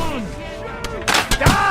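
Gunfire in the video game Kingdom Come: Deliverance 2, several loud booming shots in quick succession near the end, following a stretch of tonal in-game voices and sounds.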